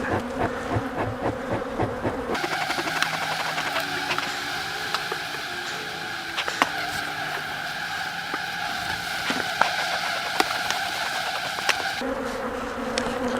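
Honey bees buzz in a thick continuous drone at an open, hot spring hive being smoked and supered, close and steady with small clicks and knocks throughout.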